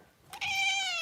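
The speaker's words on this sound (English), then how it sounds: "Oh, that cute little meow." A pet cat gives one clear, drawn-out meow that rises then slowly falls, close and fairly loud after a faint short lead-in, with no talk.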